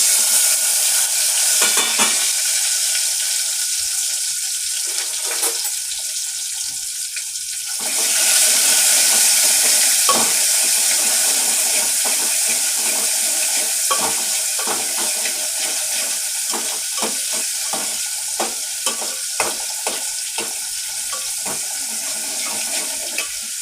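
Garlic and tomato frying in a pan with curry leaves, a bright sizzle that surges for a few seconds and then settles into steady crackling with frequent stirring scrapes.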